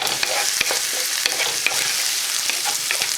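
Chicken pieces browning in a frying pan give a constant close sizzle, with sharp spatula scrapes and taps recurring every half second or so, and nobody speaking.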